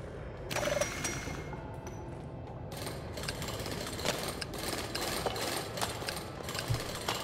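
Drill machine in the Drill Core video game running as a steady mechanical grinding and rattling hum with repeated clicking, ratchet-like knocks, constant and fairly close with no talk.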